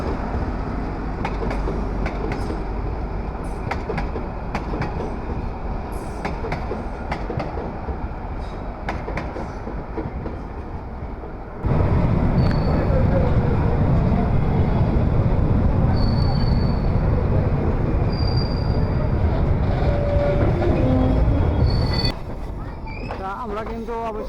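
A passenger train runs on a broad gauge line with a steady rumble and clickety-clack of wheels over the rails, growing louder midway, while people talk over it.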